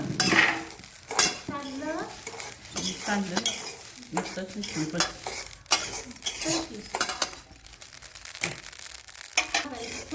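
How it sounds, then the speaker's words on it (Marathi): Mustard seeds dry roasting in a pan for a year's supply of red chilli chutney, with scraping stirs and small clinks of a spoon against metal, while someone talks over much of it. "मोहरी भाजून घ्यायची आहे"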